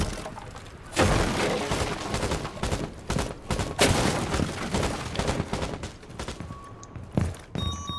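A suppressed full-auto gun fires in Rainbow Six Siege as long dense rattling bursts with short breaks, loud and close.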